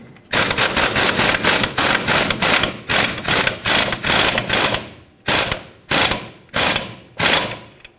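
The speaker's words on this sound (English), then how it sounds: "18mm socket, tighten this up" A socket wrench ratchets an 18mm mounting nut tight on the upper control arm of a 2007-2014 Chevrolet Silverado 2500 HD. Loud, close bursts of rapid clicking repeat in steady strokes with brief pauses between them.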